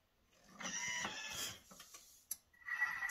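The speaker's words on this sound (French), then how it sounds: "On va mixer 1 minute à vitesse 4" A Thermomix TM6 blending vegetable stock ingredients with parmesan at speed 4, making a mechanical whirring hum in uneven bursts after a quiet start, with a short knock near the end.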